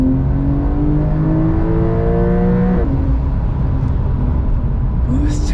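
A Porsche 911 Carrera S accelerates through the gears, engine note rising in pitch, dropping at a shift near the end and climbing again, heard steadily from close by.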